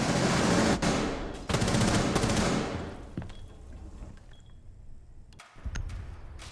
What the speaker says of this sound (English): He did shoot right at him through the wall, but he hit the hard wall behind.